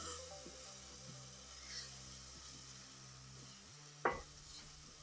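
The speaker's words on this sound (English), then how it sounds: "Let's just give it a stir." Seero, a semolina dessert, is stirred in a pan, giving a faint, soft scraping and gentle sizzle that ends with a single sharper knock; no one speaks.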